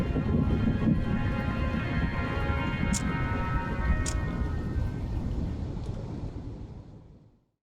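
An Arizona monsoon thunderstorm gives a steady wash of heavy rain with low thunder rumbling underneath, close and continuous until it fades out at the end.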